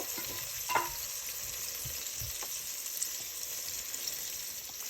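Onions and green chillies fry in a pan with a steady, close sizzle, with a faint stir or clink early on and no talking.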